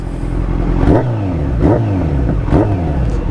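A Kawasaki Z900 motorcycle revs its exhaust up close. Three quick rising and falling throttle blips sound over a steady, loud idle rumble.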